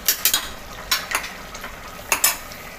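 Mutton being sautéed (bhuna) and stirred in a pan for mutton do pyaza, giving a few short scraping stir strokes in loose clusters over a faint steady sizzle, close and fairly loud.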